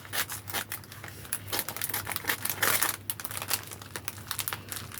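Advent calendar packet cut open with scissors, brisk crinkling of plastic wrapper and small snipping clicks close up, irregular and fairly quiet.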